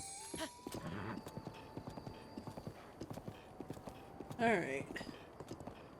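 Hooves of a large horse clip-clopping in Breath of the Wild, a steady trotting rhythm close by with a whinny midway, under quiet ambient game sound and a brief spoken word.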